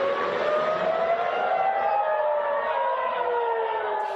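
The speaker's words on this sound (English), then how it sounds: "In Israel, sirens are sending residents to seek shelter as Iran retaliates with missiles and drones." Air raid sirens wail in Israel during an Iranian missile and drone attack, a loud, steady, slowly gliding tone sustained throughout with no voices.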